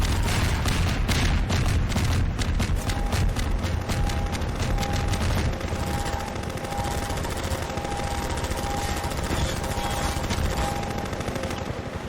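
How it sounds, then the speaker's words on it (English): Explosions and heavy gunfire in Half-Life 2, a dense, loud barrage of rapid blasts and booms, fiercest in the first seconds and then settling into a continuous roaring rumble. "Those are deafening explosions."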